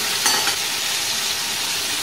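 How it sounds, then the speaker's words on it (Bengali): Jujube plums drop into hot mustard oil tempered with dried red chillies and five-spice seeds, setting off a loud, bright, continuous sizzle with a quick stir near the start. "ফোড়নটা হয়ে যাওয়ার পর আমি কুলগুলোকে ছেড়ে দিলাম।"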